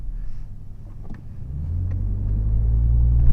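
A 2017 Chevrolet Colorado ZR2 with the 2.8 Duramax diesel drives along a road at night, a low steady rumble of engine and tires building gradually in loudness, with no talking.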